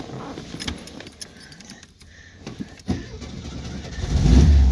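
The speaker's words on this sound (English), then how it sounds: "the engine starts right up every time I go to drive it" Keys jingle briefly, then a car engine cranks and catches, rumbling loudly up close as it starts and settles into idle.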